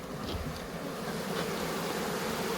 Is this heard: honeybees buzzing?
yes